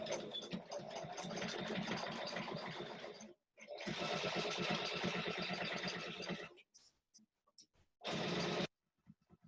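A sewing machine stitches a folded fabric boxy bag, running in close, loud sustained bursts with a whirring mechanical rattle, pausing briefly between runs and ending with a short final burst.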